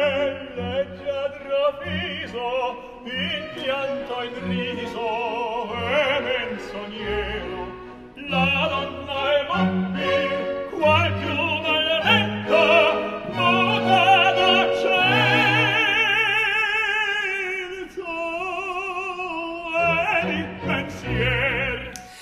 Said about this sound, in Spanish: y que suena así en el papel del Duca de Rigoletto en una de las arias más famosas